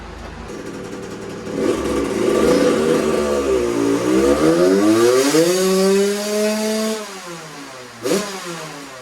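A 2001 Suzuki RM80 two-stroke fitted with an FMF Shorty silencer screams on a dyno, its loud rising rev climbing steadily in pitch before cutting off, followed by a short blip.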